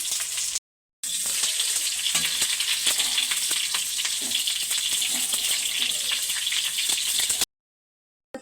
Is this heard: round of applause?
no